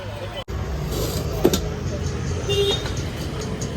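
Heavy road traffic in the narrow streets of Karad rumbles nearby, with vehicle engines passing, a brief horn toot, and people talking over the steady roadway noise.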